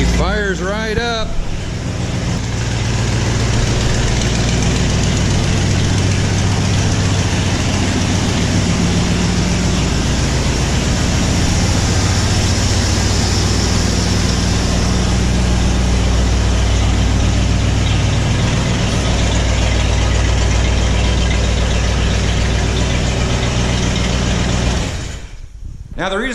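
A Ford Bronco engine settles into a loud, steady idle right after starting, a continuous rumbling drone that holds evenly for the whole stretch before cutting off.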